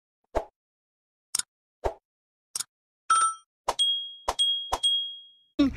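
A notification bell chime sound effect: a string of sharp separate clinks and plops, then bright ringing bell dings that repeat and overlap near the end.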